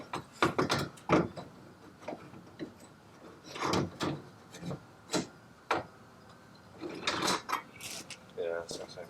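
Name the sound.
parts being screwed in on a Lamborghini Diablo VT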